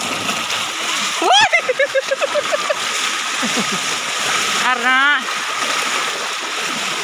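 Strong floodwater from the Kapawan creek rushes and splashes across a road during heavy rain, a constant loud wash of water under excited voices talking and calling out nearby.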